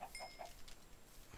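Chickens in the Minecraft video game give a few short, soft clucks near the start, faint against a quiet game background, with no talk.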